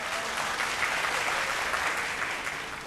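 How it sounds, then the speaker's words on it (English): Audience at a televised vocal competition show gives a dense, steady round of applause that holds evenly for the whole stretch. "Round of applause please for Dream Inn."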